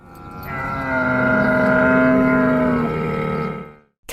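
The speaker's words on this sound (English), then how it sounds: "Camel." A camel gives a long, loud, close groaning bellow that rises and holds for about three seconds before cutting off, followed by a brief noise.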